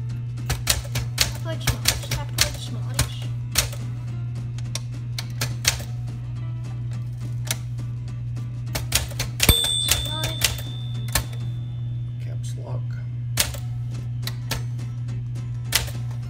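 Rapid clacking of a 1963 Sears Cutlass manual typewriter, keystrokes in quick irregular bursts, with a single bell ding partway through over a steady low hum.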